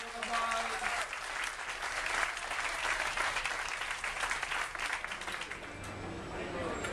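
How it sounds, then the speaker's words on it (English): An audience on a cruise ship claps for Catherine at a glassblowing demonstration beside an annealing oven. The round of applause is full and continuous, with faint voices mixed in. It thins out near the end. "Let's give Catherine a big round of applause."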